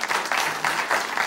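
Audience applause during a French talk-show conversation, a brief burst of clapping that comes in pulsing swells, fairly close and loud, with no voices on top.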